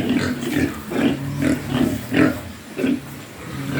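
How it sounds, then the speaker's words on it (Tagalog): A farm pig grunts and oinks in a steady series of about eight short, close, voiced grunts spaced roughly half a second apart, with low background noise between them. "Bigay ko sa baboy."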